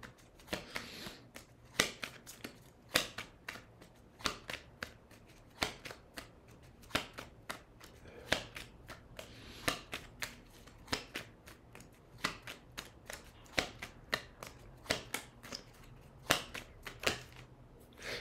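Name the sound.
shuffling and drawing tarot cards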